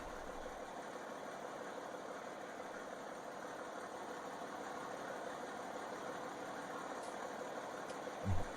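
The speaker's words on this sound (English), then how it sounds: "auger should be going" A John Deere 300 corn picker's auger runs with a steady, faint, distant mechanical drone that stays even throughout, with a brief low thump near the end.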